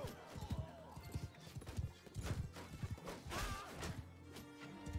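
Hooves clatter busily in a medieval battle in the video game Bannerlord as a struck horse neighs and whinnies, with clashing impacts in a dense, noisy mix.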